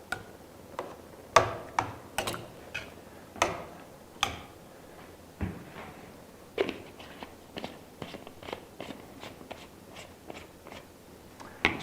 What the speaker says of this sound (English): I keep chopping these tomatoes into smaller chunks.